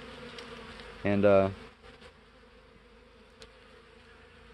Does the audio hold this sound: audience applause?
no